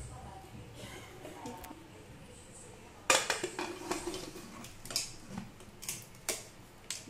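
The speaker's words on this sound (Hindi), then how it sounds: "अब हम कुकर के कवर को लगा देंगे" Metal clanks and clicks of a pressure cooker lid being set and locked into place, sharp knocks amid quiet kitchen background.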